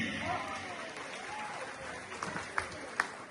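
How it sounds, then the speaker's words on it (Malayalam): An audience applauds at a magic night event, with sustained, fairly distant clapping throughout, a few sharper claps near the end and some crowd voices. "കൊടുക്കൂ കയ്യടി"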